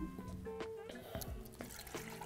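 Water poured into thick qatayef batter in a bowl, a soft trickling and dripping splash under a person talking, with faint clinks of utensils nearby.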